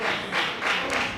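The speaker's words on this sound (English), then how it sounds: "Clap for him, stand up." An audience at a festival event claps for an older man as he is asked to stand, a short burst of soft, steady applause heard from some distance in a large room.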